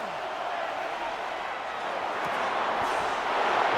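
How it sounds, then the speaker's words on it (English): A football stadium crowd roars during a big play in a Jaguars–Colts game, a broad, dense wash of voices that swells steadily louder toward the end. "A big play here as the crowd noise rises."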